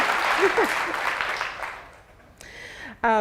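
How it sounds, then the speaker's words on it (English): A talk audience claps for about two seconds and then fades, followed by a brief moment of quiet and a voice starting to speak. "I deserve applause for that"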